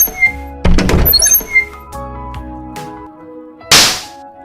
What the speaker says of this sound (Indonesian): lalu tampar pemeran utama.